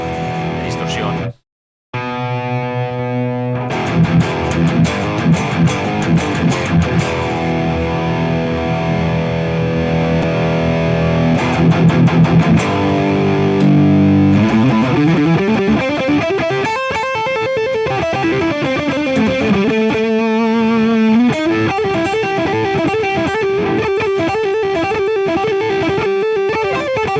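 Electric guitar played through a Mercuriall Spark AFD Marshall amp simulation, loud and heavily distorted, with sustained chords, a brief silence, chugging riffs and then sliding lead notes.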